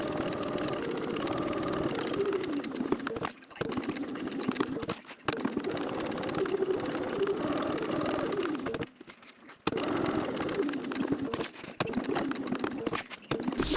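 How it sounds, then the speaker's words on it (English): A sewing machine stitches around a fabric rectangle, running in a steady, close whirring hum that stops briefly a few times before starting again. "we're going to go back to our machine and we're going to sew this rectangle"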